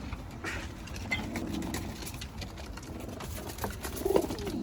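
Dolapçı pigeons cooing inside a coop, a soft, steady low murmur of calls over faint background noise, with one slightly louder coo near the end.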